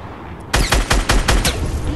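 Rapid gunshots from the Fortnite: Battle Royale video game, a run of about six sharp loud bursts in quick succession after a brief quiet start, with no talking.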